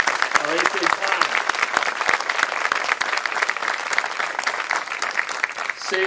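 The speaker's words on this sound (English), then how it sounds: "let's give this group a big round of applause" A crowd applauds at a middle school closing ceremony for an 8th grade class, with steady, dense clapping sustained for about six seconds with no voices over it.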